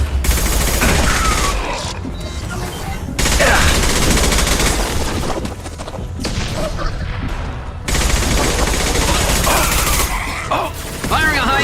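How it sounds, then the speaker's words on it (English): Gunfire in the sci-fi shooter Mass Effect 2 during a high-impact shot against Seeker swarms, loud sustained bursts of weapon fire broken by short pauses, with voices talking intermittently. "Firing a high-impact shot!"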